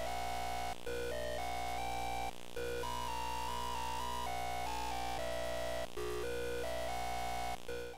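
An RTL-SDR radio tuned to about 740 MHz picks up emissions leaking from a computer monitor's video cable, giving a loud, steady electronic buzz of stacked tones whose pitch shifts in steps, broken by a few short dropouts.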